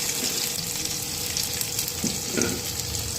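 Water poured into a pan of chicken curry masala that has been fried down in oil, with a continuous hiss and bubbling sizzle and a couple of soft clinks, close and steady with no talk.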